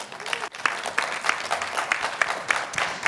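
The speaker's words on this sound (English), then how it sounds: "A big round of applause." Audience at the Arusha Debates in Tanzania bursts into applause, sharp individual claps rising above a general patter, moderately loud and sustained with faint crowd murmur underneath.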